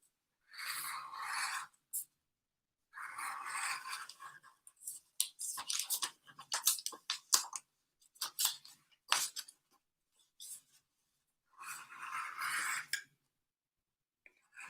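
Paper being cut with an X-acto knife while making cut-outs in an altered book's pages, close, quiet scratchy slicing strokes in several bursts separated by silence.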